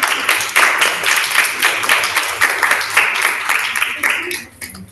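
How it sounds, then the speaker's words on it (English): Students applaud during a spoken English class, bursts of clapping that swell and fade in uneven waves for several seconds before dropping away at the end. "everybody, please have a round of applause for Lovely."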